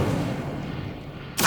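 Incendio fire spell cast in Hogwarts Legacy, a low rumbling roar that swells into a sudden bright, loud whoosh burst near the end.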